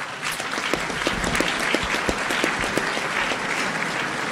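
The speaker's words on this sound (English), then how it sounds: "please give yourself a round of applause" Applause from a dinner audience at a policy organization's annual dinner, a dense, steady clatter of many hands at moderate distance that holds evenly throughout with no voices.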